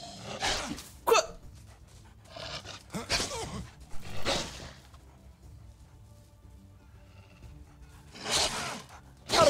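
A dog in the medieval survival game Medieval Dynasty gives several short barks and growls in separate bursts, with quieter rustling and game noises in between.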